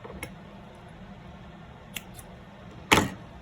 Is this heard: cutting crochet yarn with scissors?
yes